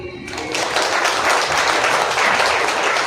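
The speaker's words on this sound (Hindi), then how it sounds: "ताली बजा दो" A crowd claps steadily, a dense wash of many hands sustained for a few seconds at close range, with no talking on top.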